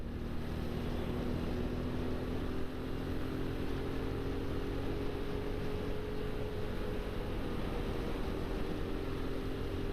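Steady low rumbling wind buffeting the microphone, continuous and loud throughout, with a constant droning hum underneath.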